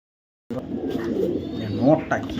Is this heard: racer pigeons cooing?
yes